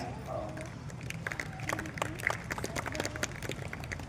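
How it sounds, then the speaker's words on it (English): Applause from an audience at a school Republic Day event honoring Rangotsav competition winners: scattered, moderately faint clapping that thickens midway, with voices murmuring underneath. "Give a huge round of applause for the Rangotsav winners."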